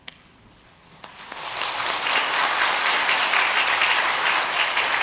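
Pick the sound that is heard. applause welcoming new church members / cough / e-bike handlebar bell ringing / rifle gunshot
applause welcoming new church members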